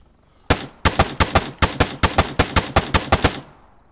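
Rifle fire in ARMA 3, a rapid string of about fifteen sharp, close, loud shots in uneven bursts over roughly three seconds, with no talking over it.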